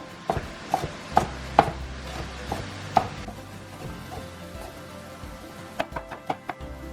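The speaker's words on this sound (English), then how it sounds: "I'm going to cut some of this onion off real quick" An onion is rough-chopped on a cutting board with a MISEN chef's knife, giving a run of sharp, close knocks at an irregular pace with short pauses between bursts, no speech.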